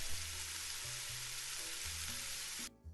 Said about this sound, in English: the frying of bacon. This sound helps to emulate the sound of rain.